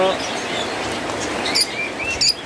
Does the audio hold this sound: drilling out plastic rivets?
no